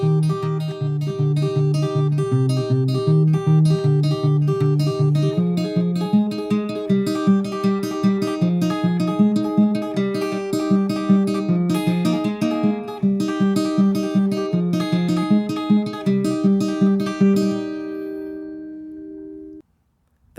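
An acoustic guitar is fingerpicked in a steady repeating pattern of plucked notes, clear and close, before ringing out and fading to silence at the end.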